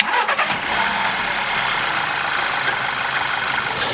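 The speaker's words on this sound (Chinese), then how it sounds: "刚才我们发动着车呢，也听到了发动机正时链条壳部分啊，这个壳子这个部分呢，噪音呢现在已经明显降低了" A car engine runs just after a timing chain replacement. After a brief start, a loud, steady idle hums on for several seconds with no talking.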